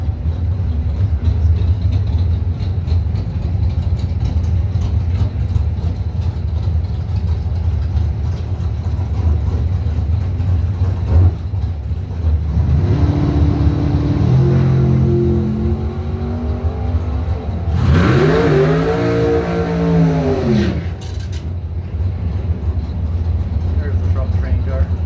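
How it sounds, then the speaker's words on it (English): A 1963 Ford Falcon drag car at a drag-strip event rumbles under a continuous crowd and engine bed, then roars through several rising and falling revs midway, with announcer-style talk around it. "63 Ford Falcon"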